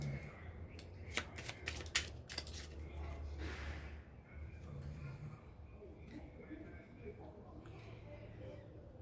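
Tarot cards shuffled and cut by hand, a quick burst of crisp riffling flutters followed by softer sliding and tapping, close and fairly quiet.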